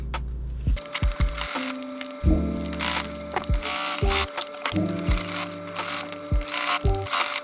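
A home sewing machine stitches a flat-felled seam on a long-sleeve shirt being remade into a sleeveless top, its motor whirring and clattering in short start-and-stop bursts, close and fairly loud.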